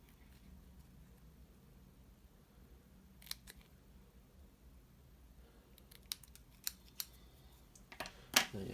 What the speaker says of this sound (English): this side's slightly longer, so just cut off a little bit